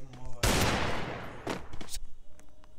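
Video game gunfire: a loud, close burst of rapid shots, then shorter sharp bursts a moment later, with faint game noise in between.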